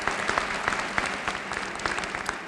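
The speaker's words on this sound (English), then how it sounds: "Let's give them all a round of applause." Steady, dense applause from a large crowd at a 2010 University of Arkansas commencement ceremony, loud and continuous throughout with no talking over it.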